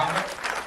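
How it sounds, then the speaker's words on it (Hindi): A studio audience at a Hindi talk show breaks into steady, fairly faint applause, a brief wash of clapping with a voice faintly over it. "तालियां"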